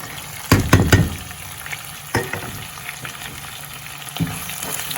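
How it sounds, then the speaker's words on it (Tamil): Onion, green chilli and garlic drop into a hot pan for a drumstick and jackfruit seed curry, starting with a sharp burst of sizzling and stirring clatter, then settling into a steady fry with occasional clinks. "வெங்காயம் வெங்காயத்தையும் போட்டுட்டு பச்சை மிளகாய் பூண்டு எல்லாத்தையும் போட்டுருவோம்"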